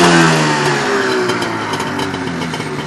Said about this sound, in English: Hear that burble, smell the exhaust with me.